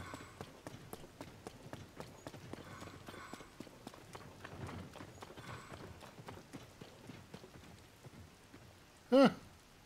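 Horse hooves clip-clop in a steady rapid rhythm in the Zelda Tears of the Kingdom video game, with soft rain-like ambience under them and a short sharp in-game sound near the end.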